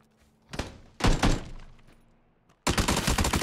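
Gunfire in the PUBG Battlegrounds video game rings out in loud separate bursts, a shot or two then a longer volley that fades, followed by a dense run of rapid shots to the end.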